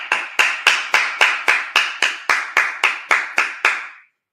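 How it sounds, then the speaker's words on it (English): A congregation at a Sabbath service claps in unison, about twelve sharp, evenly spaced claps over four seconds, loud and close, then stops abruptly. "Let's clap it up."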